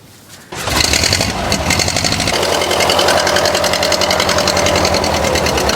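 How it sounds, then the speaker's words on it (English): An original car engine cranks briefly, then catches and settles into a loud, steady idle with a fast, even mechanical chatter, heard up close and alone. "any chance of starting it up so we can hear it?"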